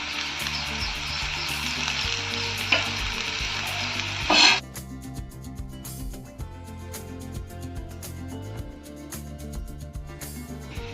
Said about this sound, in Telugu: కారం వేసుకున్నాక కొద్దిగంత కరివేపాకు వేసుకుంటున్నాను ఫ్రెండ్స్